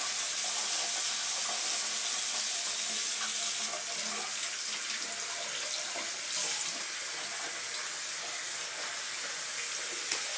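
Tap water running steadily into a sink while makeup brushes are washed, a continuous close hiss and splash with small variations and no talking.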